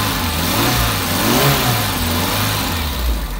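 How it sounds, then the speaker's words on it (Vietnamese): Petrol engine of a 2016 Dongben 800kg light truck with a closed 2.5 m cargo box, revved steadily and close by, a continuous fairly quiet hum rising and falling with the throttle, no talk over it. "Đây mình đè để mình vô ga cho anh em nghe cái tiếng động cơ xăng."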